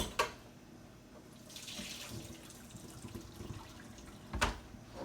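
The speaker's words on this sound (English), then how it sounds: "I'm gonna pour the liquid off of here." Liquid is poured off a pan of oven-baked beef ribs, a soft running, splashing stream with a couple of sharper spills, fairly quiet and close, with no talking.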